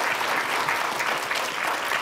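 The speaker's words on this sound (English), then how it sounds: "Hey, a round of applause for these guys." Audience applause in a session room, a dense and even patter of many hands clapping at moderate level for the whole short stretch, with no voices rising above it.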